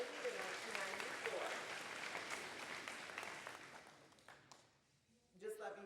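Audience clapping at a school Veterans Day assembly, a crowd applauding fairly quietly for a few seconds before fading out, followed by a brief burst of voices at the end.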